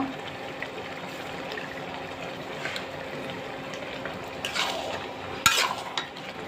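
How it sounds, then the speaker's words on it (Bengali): Egg, radish and eggplant curry is stirred in a pan, giving soft scraping and gentle sizzling, with a few brief clinks of a utensil near the end and no talk. "এখন নেড়ে চেড়ে নামিয়ে নেব।"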